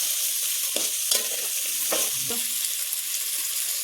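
Peas and cauliflower for a veg pulao fry in oil with onion, chili, ginger-garlic paste and whole spices, a close, constant sizzle broken by several short scrapes of a spoon stirring the pan.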